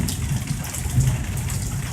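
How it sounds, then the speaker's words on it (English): Heavy Florida thunderstorm rain falls in a steady broadband wash, a constant close rushing hiss with a low rumble underneath. "show with lots of thunder and lightning and rain"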